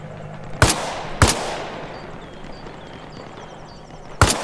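Gunfire in Arma Reforger: three sharp, loud shots, two in quick succession and a third after a pause of about three seconds, each trailing off in a long echoing tail.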